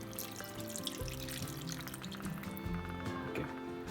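Masala-flavoured water, rinsed from a jar, poured over crab in a pot for Goan crab xec xec, a steady liquid pour and splash with dripping, close and continuous throughout.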